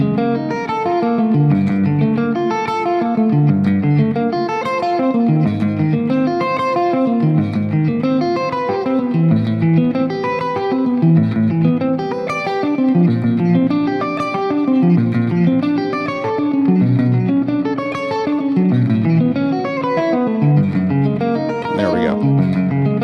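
Electric guitar plays six-string sweep arpeggios over a backing track in a continuous looping passage, with dense, distorted, effects-laden notes rising and falling steadily at an even, loud level without pause.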